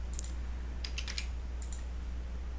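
Fingers typing a short value on a computer keyboard, a few quick light key clicks in two small bursts over a steady low hum, close and faint with no voices.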